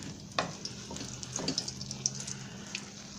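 Chile rellenos frying in hot oil in a home kitchen, a soft steady sizzle with faint spatters and a few light clicks of utensils, fairly quiet and close.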